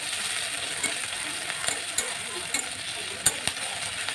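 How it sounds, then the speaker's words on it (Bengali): Chopped onions fry steadily in hot oil until deep red-brown for a Bengali shol fish dhoka, a close, continuous sizzle broken by scattered spoon scrapes and clicks. "পেঁয়াজটাকে লাল করে ভেজে নিতে হবে, একদম লাল হয়ে আসবে।"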